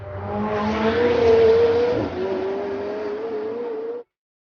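A 2018 McLaren 720S supercar engine revving, a loud close rising rev that peaks then holds at a high steady pitch before cutting off abruptly.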